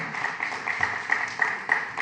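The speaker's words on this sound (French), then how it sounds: "On peut l'applaudir, bien sûr. Les applaudir." Applause in a Paris council chamber, a steady wash of many hands clapping at moderate distance, lasting throughout without voices over it.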